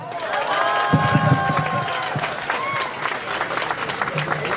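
Sustained clapping from a crowd at a golden wedding anniversary celebration in Laguna Seca, Fresnillo, steady and fairly loud throughout, mixed with voices and a tonal melodic line in the background.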